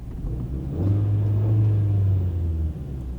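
A Renault Megane 4 engine idles low, then revs up into a deeper sustained roar for a couple of seconds before settling back to idle, heard up close, with its normal sound and no artificial engine sound.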